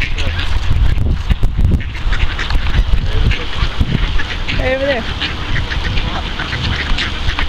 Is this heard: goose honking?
yes